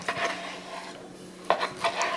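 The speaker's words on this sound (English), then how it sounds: "So let's just cut up some bacon." Bacon being cut into strips for a fried gravy burger: soft scraping knife strokes and a couple of sharper taps against a board, close and moderate in volume over steady background noise, with no talking.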